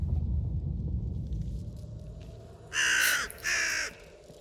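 Two loud, harsh crow or raven caws ring out from trees in quick succession after a stretch of low rumbling ambience.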